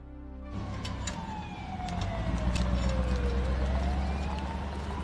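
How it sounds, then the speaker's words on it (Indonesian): An ambulance siren wails steadily, its pitch sweeping down and then back up, over a heavy low rumble of traffic or engine noise. "Ambulans sudah datang."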